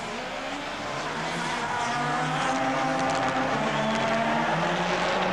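Pascual's Subaru rally car on a 2007 Rallye Portugal special stage, a steady engine drone with shifting tones building slightly and holding loud throughout, no talk.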